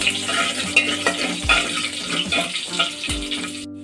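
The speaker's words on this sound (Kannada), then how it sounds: "ಕರಿಬೇವು ಬೆಳ್ಳುಳ್ಳಿ ಇದನ್ನು ಸ್ವಲ್ಪ ಹಾಕಿ ಫ್ರೈ ಮಾಡ್ಕೋಬೇಕು" Curry leaves, garlic and mustard seeds fry in hot oil as a tempering for a field bean sambar, crackling and sizzling up close under repeated stirring knocks against the pan.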